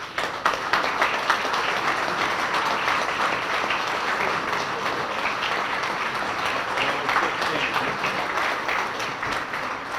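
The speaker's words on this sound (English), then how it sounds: "please stand so that we can honor you with a round of applause" Sustained applause from an audience at a chamber of commerce dinner, honoring past award recipients as they stand; steady, dense clapping fills the room for the whole stretch.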